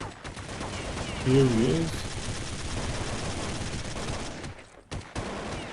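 Rapid AK-47 gunfire in a video game, a loud burst of shots clustered in the first half, heard under steady game noise with someone talking over it.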